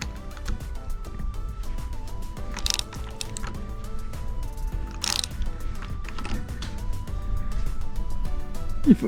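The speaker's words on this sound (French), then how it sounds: "avec le cliquet dans le bon sens" A ratchet fitted with a spark plug socket clicks rapidly and steadily while working a plug on a Yamaha 60 hp two-stroke outboard, close and loud, with a few metallic knocks in between.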